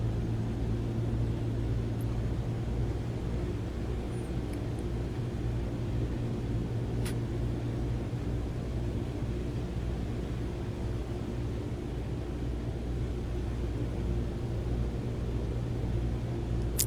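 A DH.88 Comet engine powering up in Microsoft Flight Simulator, heard as a steady, droning propeller roar that holds at an even, fairly loud level throughout, with no voices.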